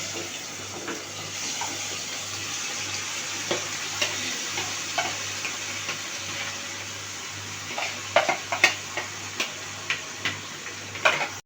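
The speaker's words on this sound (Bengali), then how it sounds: "এখন আমি এই তেলের মধ্যে আমি মাংসগুলো দিয়ে দিব ম্যারিনেট করা মাংসগুলো আমি দিয়ে দিব" Marinated meat frying in hot oil in a pan, giving a steady hiss under a low hum, with scattered clicks and light scraping that grow busier toward the end, no voices.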